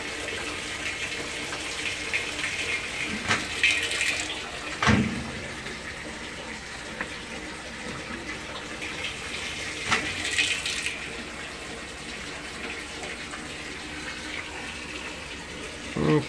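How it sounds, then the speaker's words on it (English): A washing machine on a drain-and-spin cycle in a mobile home, a steady rush of draining water with a few sharp knocks and clunks, moderately close and alone. "I'm going to put this washer real quick on a drain spin and just let it drain and spin real quick."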